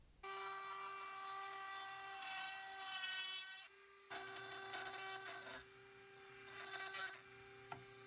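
A rotary tool fitted with a 562 cutting bit carves into wood, giving a steady high-pitched whine with a brief break midway and slight changes in pitch as it bites. It is loud and close, with no talking.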